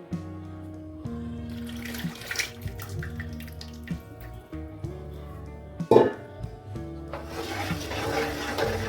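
Lemon juice poured from a vessel into pickle being cooked in a home kitchen makes a watery splashing trickle under steady background music, swelling near the end.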